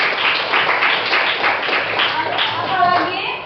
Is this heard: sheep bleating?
no